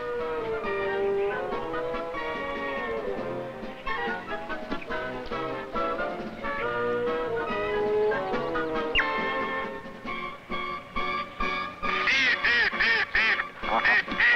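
A mallard hen duck quacks repeatedly and loudly in a forest setting, harsh calls coming in rapid, uneven bursts that grow more frantic toward the end.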